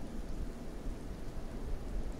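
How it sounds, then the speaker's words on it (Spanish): Acid rain in the game Kenshi, a steady, loud hiss of falling rain with low rumbling underneath, continuous across the whole stretch with no voices. "A ver si no nos morimos con la lluvia ácida antes de."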